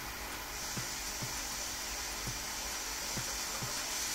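A triple-flame butane torch heats a piece of steel, giving a steady, close, broadband roar with faint periodic ticks and no voices.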